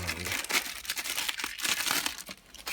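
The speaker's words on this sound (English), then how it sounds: "Let me take it out of the plastic." Plastic packaging crinkles and crackles as a weBoost three-way booster mount is unwrapped, with continuous close rustling and crumpling bursts throughout.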